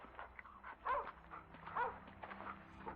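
A dog in a cutscene from the video game The Division 2 gives two soft, close barks or whimpers over a low steady game backdrop.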